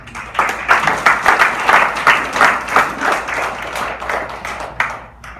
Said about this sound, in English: please give yourself a round of applause because you are just all amazing